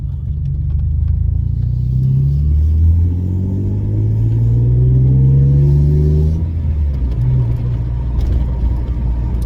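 An old Alfa Romeo fitted with an aftermarket exhaust drives and revs, its engine rumbling loudly up through rising pitch sweeps and dropping back, a close, continuous throaty drone with no talking.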